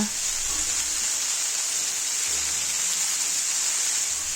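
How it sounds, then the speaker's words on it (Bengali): Spices with garlic and ginger paste frying in a pan for a bean and poppy seed curry, a loud, continuous bright sizzle. "আর অল্প জল দিয়ে ভালো করে কষিয়ে নেব"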